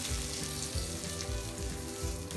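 Steady, dense sizzling of meatballs frying in hot oil, continuous crackle and hiss throughout with no voices.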